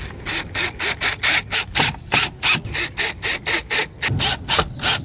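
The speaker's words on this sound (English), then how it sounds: "Attach a few more screws." Rhythmic ratcheting of a hand tool driving screws into the front cover of a Lexus RX side mirror during turn signal and puddle light replacement, about sixteen quick close clicking bursts in a steady run, with no talk.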